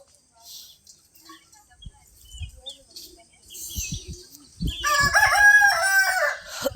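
A rooster crows in a village yard during a Mattu Pongal morning, a loud harmonic call rising near the end after faint rustling and scattered low thumps.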